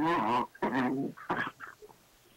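A dog gives a few short whining, yelping calls in quick succession, close and fairly loud at first, then trailing off into fainter, scattered sounds.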